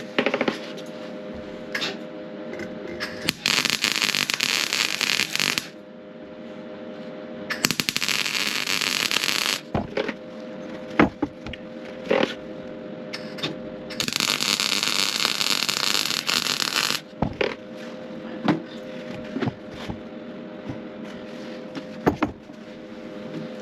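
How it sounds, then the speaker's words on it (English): Solar panel mounts are welded onto a Sprinter van in several long hissing, crackling bursts of a few seconds each, separated by quieter pauses with clanks and handling noises nearby. "I'm going to make sure that we weld them on all 4 corners so that we've got the maximum strength"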